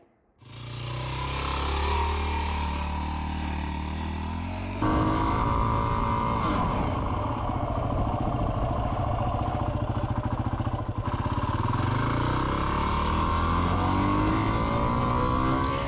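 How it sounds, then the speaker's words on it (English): Motorcycle ride near the Columbia River Gorge in Washington, a loud continuous engine drone with wind rush, rising and shifting as the rider accelerates through gears, heard close with no talking. "what hike is not complete without a motorcycle ride?"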